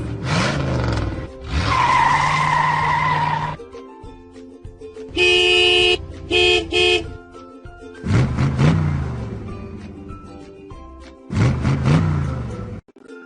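Cars skid with squealing tires and blare their horns in several loud bursts. Revving engines fill the gaps between honks. No one speaks.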